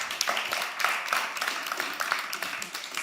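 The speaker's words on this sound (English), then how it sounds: "Round of applause for Joanita." An audience at a COP28 climate and energy policy panel applauds a speaker. Dense, steady clapping from many hands fills the room evenly for a few seconds, moderately loud, with no talking over it.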